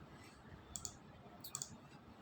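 Two quick pairs of soft, close clicks from keys being typed on a computer keyboard over a faint background hiss, with no voice.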